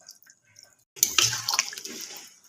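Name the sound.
water poured into cooking chicken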